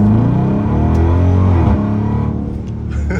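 A Dodge Charger pulls away hard from first gear in a residential neighborhood, its engine a loud, close, sustained rumble that climbs steadily in pitch as it revs, with no talk over it.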